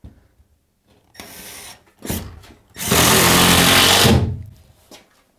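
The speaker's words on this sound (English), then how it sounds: "when you use that bit and you get that screw in just right, you shouldn't be able to hear that screw" A power drill drives screws into wood while a basement bathroom is framed, with two short whirring bursts followed by a longer, louder sustained run, all close by with no talking.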